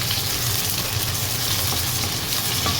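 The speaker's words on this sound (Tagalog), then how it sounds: "Halo natin yung sibuyas at luya." Onion and ginger being stirred into golden browned garlic in hot oil, a steady dense sizzle and crackle throughout with faint stirring scrapes, close and continuous, no talk.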